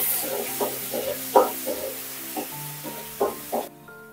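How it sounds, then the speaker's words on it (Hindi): Ginger garlic paste stirred in a hot kadhai gives a close, steady sizzle, with a run of scraping stir strokes at uneven intervals. Nobody speaks. "अभी मैं जिंजर गार्लिक पेस्ट को अच्छी तरह से मिलाऊंगी"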